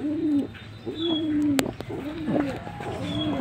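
A young racing pigeon coos in short, repeated throaty phrases, close and fairly soft, with faint loft noise and a brief click in between.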